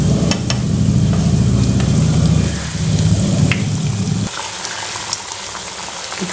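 Oil ladled over frying food sizzles steadily in a hot pan, a loud, dense crackle with a low bubbling rumble that drops away partway through, leaving a quieter hiss.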